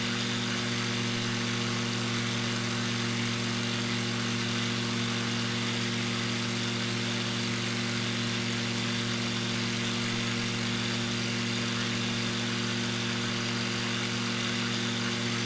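Steady, loud drone of a small propeller aircraft engine with the throttle raised, heard from inside the cabin as a continuous hum with strong low tones throughout, no talk.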